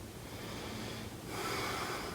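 Slow, steady breathing while holding a stretch, a soft continuous airy rush that grows stronger on a drawn-in breath partway through, close and fairly quiet with no talking.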